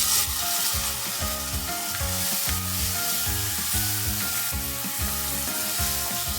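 Cooked chickpeas, boiled with a little salt and oil, tipped into a pan of hot masala, giving a steady loud sizzle with rhythmic scraping and stirring throughout.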